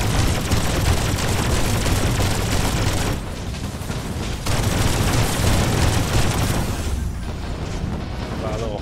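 A charged shot in the video game Mothergunship fires as a dense, sustained roar of booming blasts and explosive rumble, loud and continuous with brief dips, while a person talks over it.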